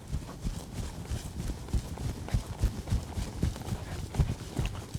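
A horse lopes at an easy pace, hooves thudding in a steady, rolling rhythm on soft ground, fairly faint and continuous over a low background.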